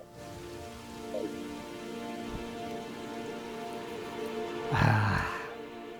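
Rainstorm in the video game Terraria: steady, dense rain hiss continues throughout, with a brief louder swell near the end.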